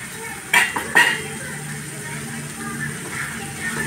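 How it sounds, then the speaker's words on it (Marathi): Soya chunk curry with Malvani masala and grated coconut stirred in a pan, with two sharp spoon-on-pan clinks early on, then soft scraping and mixing under low kitchen background. "सगळं छान असं मिक्स करून घेते"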